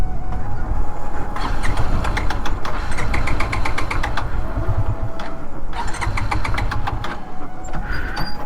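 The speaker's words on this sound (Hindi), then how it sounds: "अरे मेरी बाइक मिसिंग क्यों मार रही भाई?" A motorcycle engine misfires after standing in the hot sun, running loud and close with a rough, uneven idle and irregular stumbling pops throughout.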